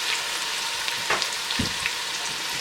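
Onions and garlic hit hot olive oil in a pan for homemade pasta sauce, giving a steady, close, bright sizzle with a few soft clicks from stirring, no voices.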